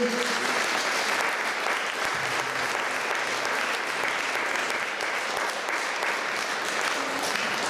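A church congregation claps in sustained, loud applause that fills the room evenly, with some voices mixed into the din throughout.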